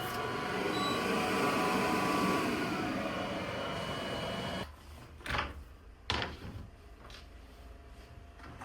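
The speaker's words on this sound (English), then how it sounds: "quickly cut these with the laser cutter" A laser cutter working through acrylic parts gives off a steady mechanical whir for several seconds. It then falls quieter, broken by a few sharp intermittent clunks and ticks.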